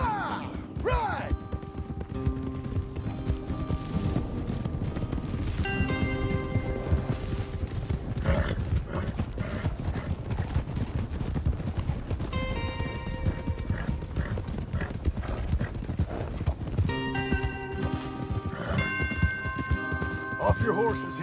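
Rhythmic hoofbeats of several horses galloping in Red Dead Redemption 2, continuous and fairly close, with music and occasional voices mixed over the pounding clip-clop.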